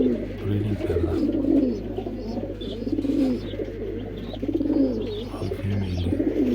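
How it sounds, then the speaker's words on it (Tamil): Fancy high flyer pigeons from breeding lines cooing at a pigeon farm, a steady run of soft throaty coos repeating over a constant low hum, close and moderately loud, with no talk. "ஹை ஃப்ளையரு 7 மணி நேரம் பறந்த புறா இருக்குது."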